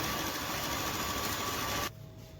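An electric egg beater whirs steadily through pancake batter mixed with sugar, a close, even motor hum with a constant tone that cuts off abruptly near the end, leaving quieter background.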